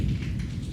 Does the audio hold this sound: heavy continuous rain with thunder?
yes